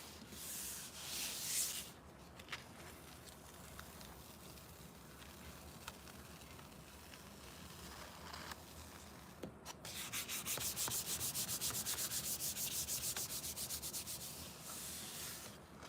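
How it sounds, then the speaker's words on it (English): Steady rubbing over a stencil on a gel plate, a soft, continuous scratchy friction that pauses briefly and then resumes more strongly, close and alone. "Needs a little bit more rubbing."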